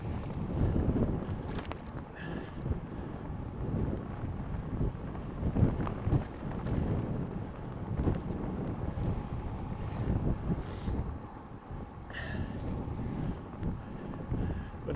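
Steady wind buffets the microphone aboard a sailboat under way, a continuous rushing roar with gusty swells and faint water sounds beneath, no voices.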